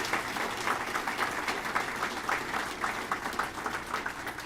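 A crowd claps steadily throughout, a dense, even patter of applause that holds at a moderate level without cheering or voices.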